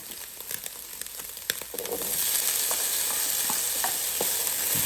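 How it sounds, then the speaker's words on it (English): Lobster fried rice with corn stirred in a Power XL cooker: a loud, continuous sizzle that swells and steadies as the food is turned, with light scraping clicks from the utensil and no talking. "Stir up all that together, like that."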